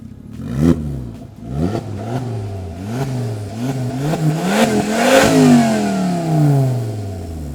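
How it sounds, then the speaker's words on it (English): A custom Volvo engine revs repeatedly through a loud custom exhaust, several sharp throttle blips climbing and falling, ending in a longer rising rev nearby. "check out the custom exhaust. Just listen to how it sounds."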